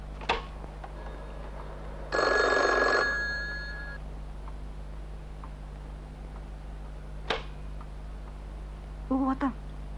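A telephone in a 1989 Soviet drama rings once in a short loud burst, followed by quiet room tone with faint clicks and a brief ticking flutter near the end.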